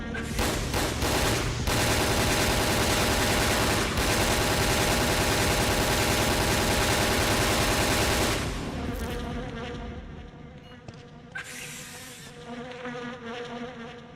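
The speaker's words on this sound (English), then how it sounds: "Assault rifle time." Automatic assault rifle fire in a Resident Evil game, a dense, loud sustained burst for about eight seconds, then fading to scattered shots and clatter.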